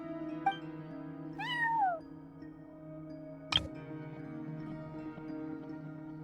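A cat meows once in Genshin Impact, a short rising-falling cry standing out over steady game music, followed moments later by a brief sharp tick.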